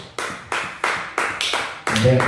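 A church congregation clapping hands for Jesus, six loud, evenly spaced bursts of applause in steady rhythm, close and crowded, with voices mixed in toward the end.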